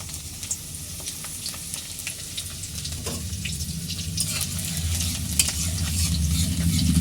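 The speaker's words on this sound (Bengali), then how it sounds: "কড়াই গরম হয়ে গেলে এতে আমরা দিয়ে দেবো একে একে রসুন কুচি" Chopped garlic sizzles in a hot wok with a constant hissing fry, broken by scraping stirs of a spatula that grow a little louder toward the end.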